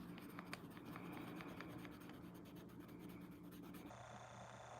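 Tiny pencil strokes on paper while drawing fur, a faint, close, continuous scratching with short repeated ticks, quiet and steady without any voices.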